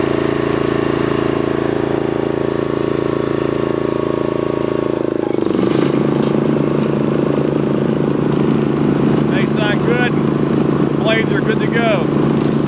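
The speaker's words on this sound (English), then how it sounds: "Okay, let's put the blades in the gear." A Snapper riding mower runs steadily with a loud, droning engine close by, its tone shifting partway through as the blades engage, then continuing to chug while someone talks over it.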